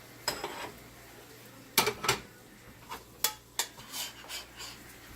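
A plate and bowl are grabbed to dish up an omelet, giving a handful of separate clinks and clatters of dishware, close and fairly quiet, spaced irregularly over a few seconds.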